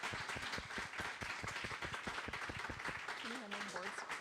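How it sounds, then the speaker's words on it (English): Audience applause at a candidate forum for the 16th Middlesex District, steady dense clapping filling the room for several seconds, with a voice briefly speaking near the end. "let's give it a round of applause"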